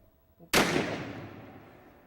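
A single loud gunshot cracks out at an impromptu shooting class in a Laos village, with a long echoing decay rolling away across open surroundings.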